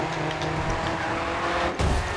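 A race car in the video game Grid 2 roars along with a steady, dense engine drone, then gives a sharp, heavier low burst near the end, like a skid or impact.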